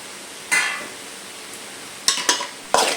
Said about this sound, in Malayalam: രണ്ട് സവോള അരിഞ്ഞത് ചേർത്ത് കൊടുക്കാം